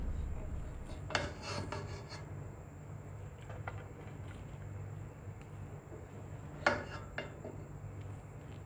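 Kabuli pulao being served out of the cooking pot, faint scraping and rasping of a metal spoon against the pot with a couple of louder clinks, quiet and close with a steady low hum underneath.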